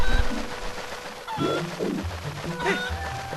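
Cuckoo birds in Twilight Princess in Ordon Village squawk and flap in short agitated bursts while being held, a few clustered clucks over a faint game background.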